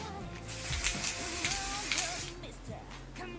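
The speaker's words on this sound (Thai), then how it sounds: "อันนี้เป็นยี่ห้อใหม่ Bounce นะคะ Bounce Sun Spray" Bounce sun spray sunscreen being sprayed, several short hissing bursts close by in quick succession, with a quiet voice faintly underneath.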